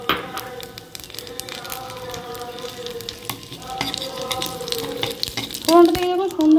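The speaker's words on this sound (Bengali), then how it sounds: "আমি এই অবস্থায় দেখো পাঁচ ফোড়ন অল্প একটু আর একটা শুকনো লঙ্কা ফাটিয়ে দিয়ে দিলাম।" Panch phoron spices and a dried red chili crackle in hot oil in a kadai, a dense steady sizzle with sharp pops, louder toward the end, with faint voices underneath.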